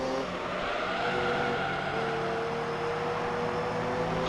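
Race cars in Gran Turismo 3, a Toyota Supra and a Mazda RX-7 running side by side, give a steady, loud engine drone with layered harmonic tones throughout, a continuous high-revving whine.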